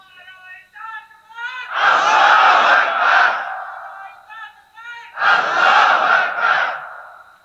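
A large crowd at a religious sermon shouts slogans in unison: two long, loud collective shouts, each lasting over a second, answering a voice that leads the chant through a loudspeaker.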